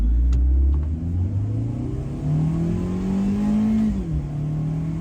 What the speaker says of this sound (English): Upshifts are relatively fast and smooth.